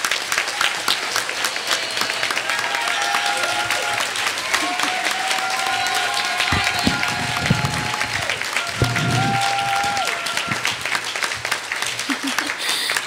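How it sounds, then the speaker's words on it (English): Audience applause for a speaker at a Climate Action Week event on Indigenous women leading media campaigns, sustained crowd clapping throughout with some cheers and voices rising over it, fairly loud and close. "Please, a great round of applause for our beautiful little sister."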